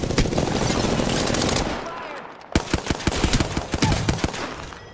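Hemlok rifle fire in an Apex Legends fight: a loud continuous burst of shots, then a short gap and a run of sharp, close single and burst shots with fainter voices mixed in.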